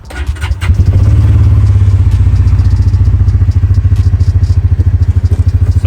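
A Hisun Stryker UTV engine starts by push button with a brief cranking clatter, then settles into a loud, steady, close idle with a throbbing rhythm.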